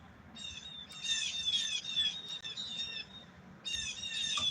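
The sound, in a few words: birds singing loudly outdoors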